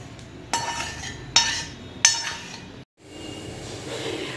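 Roasted ajwain seeds are moved from a hot kadhai onto a plate, making three sharp metallic clinks and scrapes spaced about a second apart, close and fairly loud over a low background hiss.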